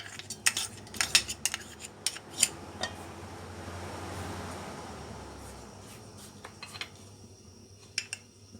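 Metal utensils clink and scrape against a kadai, with garlic-ginger paste sizzling softly in oil, swelling in the middle before the clinking resumes.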